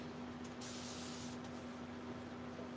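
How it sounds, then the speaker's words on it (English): A spray bottle lets out one steady hiss of water mist lasting under a second, over a constant low electrical hum. "Spray this with water."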